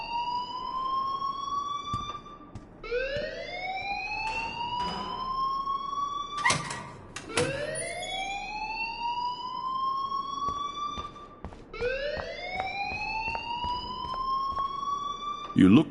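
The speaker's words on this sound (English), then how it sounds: "please turn off that alarm since that's your job" In the video game Life is Strange, an alarm sounds as a repeating rising electronic wail, each sweep climbing for several seconds before restarting. It stays steady and prominent throughout, with occasional faint knocks beneath it.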